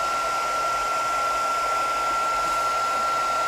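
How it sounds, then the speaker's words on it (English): A craft heat tool blows hot air over black ink on paper with a steady, even hiss and a faint constant whine, and nothing else is heard. "So I got my heat tool nice and hot."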